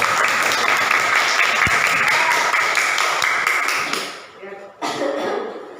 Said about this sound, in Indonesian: Tepuk tangan buat Lopi.